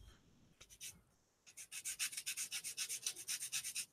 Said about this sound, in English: I think I shall sand it. I shall sand it.